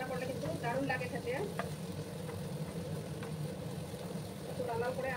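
Onions fry in a pan, browning for a teasel gourd and potato curry, a soft, steady sizzle running beneath intermittent talking, with light stirring taps.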